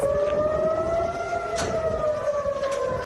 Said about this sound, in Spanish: Un ataque que provocó la activación inmediata de sirenas en todo el país